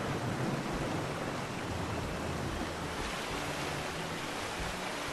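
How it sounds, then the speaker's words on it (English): Water rushes in a dense, steady broadband wash while swimming underwater in the PSVR2 game Subside, loud and continuous without voices. "From distant whale song to the rush of water as you pick up your swimming pace, this is a good sounding game"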